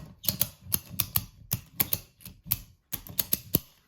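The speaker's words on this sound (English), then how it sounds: "all we have to do is we open up our handle and we start ratcheting" A ratchet strap handle being pumped open and closed to tighten, sharp clustered clicks and clacks in an uneven rhythm, close and fairly loud with short gaps between strokes.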